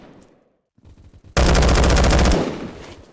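Gunfire in the Roblox game Phantom Forces: a few light clicks, then a loud, sustained burst of rapid automatic fire about a second long, ending abruptly into faint residual noise.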